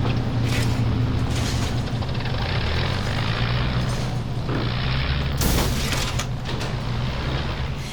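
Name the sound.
aircraft crash in a dramatized aviation story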